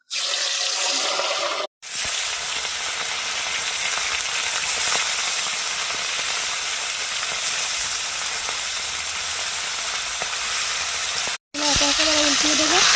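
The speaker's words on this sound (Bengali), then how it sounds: "তেলটা অনেকটা গরম হয়ে গেছে। তো মাছগুলো ভেজে নেব।" Small river chanda fish frying in hot mustard oil give off a loud, continuous close-up sizzle that runs almost unbroken, interrupted by two brief cuts and swelling slightly louder near the end.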